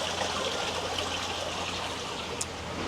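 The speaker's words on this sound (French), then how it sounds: "Petite cascade." A small waterfall on a scenic site near Baguio in the Philippines trickles and splashes in a steady, moderate stream of water with no talk, one brief sharper splash near the end.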